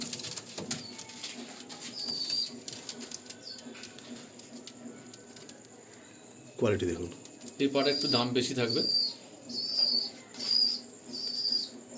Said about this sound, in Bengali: এটা অরিজিনাল স্টার কালাঙ্কা পায়রা